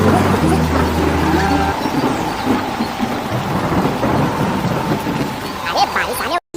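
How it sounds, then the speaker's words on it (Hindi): Rain pours steadily with rumbling thunder rolling through, loud and continuous, while a voice speaks over it and a low horn-like tone sounds briefly at the start. "अरे बारिश आने"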